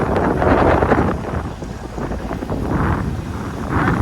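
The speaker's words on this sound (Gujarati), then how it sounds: "અત્યારે પહેલાં કરતાં હવા કરતાં ડબલ વાવડો થઈ ગયો." Strong wind blowing over an open fishing boat at sea off Porbandar, a loud roaring buffet against the microphone that surges and eases in gusts, with no voices.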